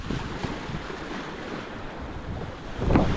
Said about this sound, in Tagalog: Ang lakas ng habagat.